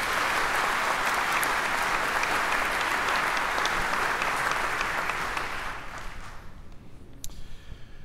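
A crowd at the 2020 Mississippi governor's inauguration ceremony applauds a row of judges, loud sustained clapping that fades out over the last couple of seconds.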